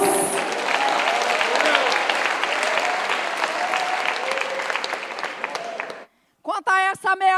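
Church congregation applauding for several seconds, a dense steady clatter of many hands that fills the room, then stops abruptly before a voice resumes speaking.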